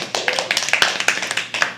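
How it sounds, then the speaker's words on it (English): A small audience at a live poetry open mic claps for a poet, a brisk patter of hand claps with distinct individual slaps, close and fairly loud. "Can we please have a round of applause?"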